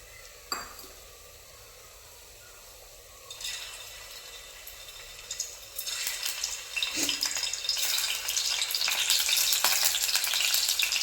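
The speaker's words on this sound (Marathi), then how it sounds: "आता ह्या ठिकाणी आपण पनीर थोडंसं भाजून घ्यायचं त्याच्यासाठी तेल घातलेलं आहे" Paneer pieces fry in hot oil in a pan. The start is quiet, with a single tap. The sizzle then builds and grows into a loud, steady crackle by the end, with occasional clinks.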